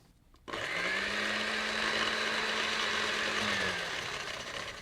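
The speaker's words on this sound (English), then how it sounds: "Put the lid on your blender and give it a nice blend." A blender making mayonnaise switches on abruptly and runs with a loud, steady whirring roar that continues to the end.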